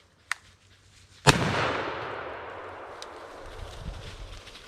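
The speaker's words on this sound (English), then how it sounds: "You can shoot them with a shotgun, try to run them out of there." A shotgun fired at a squirrel nest during a January hunt gives one sharp, loud blast that rolls off through the woods, preceded by a smaller pop and followed by a faint later crack.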